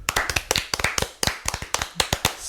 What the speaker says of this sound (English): Maybe we should just applause.